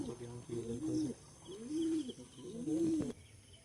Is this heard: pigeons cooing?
yes